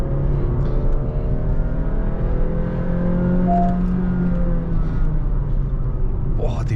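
Honda City car engine pulling hard in second gear: a steady, loud, rising engine drone heard from inside the car, with someone talking over it.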